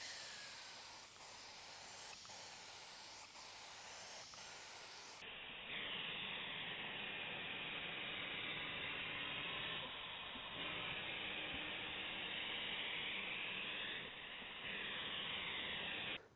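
A spray gun applies a third and final coat of top coat sealer onto a Range Rover leather seat, a steady close hiss running unbroken throughout, with a few faint clicks early on.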